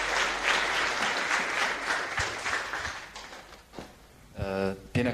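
An audience at a national business startup competition final applauds a named contestant with dense, steady clapping that thins out before a voice begins speaking near the end.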